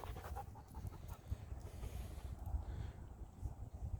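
Nino the dog pants in quick, steady rhythmic huffs close to the microphone outdoors, with light wind noise underneath and no voices.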